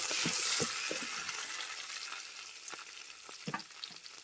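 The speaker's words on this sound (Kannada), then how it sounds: "ನಾನು ಕೊತ್ತಂಬರಿ ಪುದೀನ ಸ್ವಲ್ಪ ಸ್ವಲ್ಪ ಹಾಕ್ಕೊಳ್ತೀನಿ ಸ್ವಲ್ಪ ಫ್ರೈ ಮಾಡ್ಕೊಳ್ಳೋಣ" Coriander and mint fry in a pan for coconut-milk mushroom rice, giving a soft, steady sizzle broken by scattered scrapes and clicks of stirring up close.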